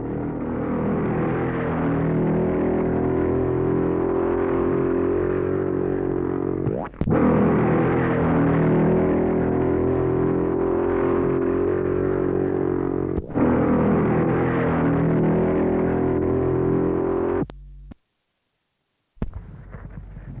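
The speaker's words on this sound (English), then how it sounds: "Now we have Doug McLaren on the 250 Jawa." A 250 Jawa Supersport motorcycle engine roars loud and steady at a 1965 Huntly hillclimb, held in long sustained runs broken by two sharp cuts before falling away into near silence at the end.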